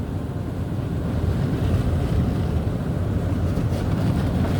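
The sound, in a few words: automatic car wash pre-soak spraying a car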